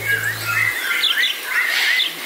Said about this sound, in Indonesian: jalak suren.